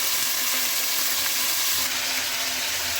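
Mutton sizzles loudly in a pan with roasted onions, a dense, hissing fry that carries on steadily from start to end, with no voices.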